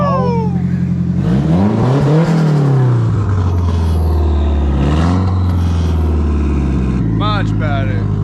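Nissan S13 project car engine, temporarily fitted, running loud and close with rising and falling revs that settle toward an idle, while people talk over it.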